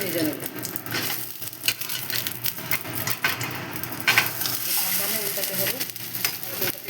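A roti fries in a covered pan with a steady close sizzle and crackle, broken by soft scraping and tapping.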